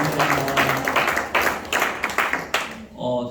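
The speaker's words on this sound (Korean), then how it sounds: "박수 한번 주세요" An audience in a church class claps for a pastor, uneven rolling hand claps for about three seconds that fade out at the end.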